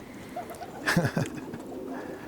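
Young racing pigeons in a Utah loft give a soft, low coo around the middle, standing out briefly above a faint background hum; a voice murmurs lightly.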